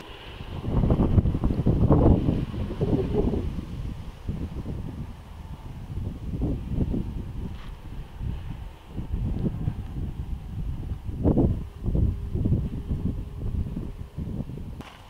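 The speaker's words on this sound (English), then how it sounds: "the wind's just changed to outflow from this cell" Gusty outflow wind from a squall line storm cell on the Southern Tablelands of New South Wales roars across the microphone in heavy, surging buffets that rise and fall, with no voices.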